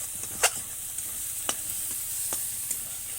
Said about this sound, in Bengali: এই যে বেগুন ভাজা হবে, কাঁচা লঙ্কা দিয়ে বেগুন ভাজা আর বেগুন ভর্তা